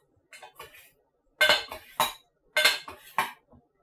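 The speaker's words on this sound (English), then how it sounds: "we are just going to give this a good stir" An artichoke marinade is stirred in a bowl with a utensil, giving a few sharp clinking scrapes in two quick pairs against quiet gaps, close and clear, with no talking.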